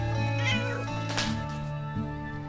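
A cat meows loudly and insistently up close, with drawn-out, wailing cries in quick succession.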